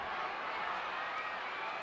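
Crowd noise from a visual novel wrestling scene: a broad, steady roar of cheering that stays at an even level throughout, with no distinct individual voices standing out.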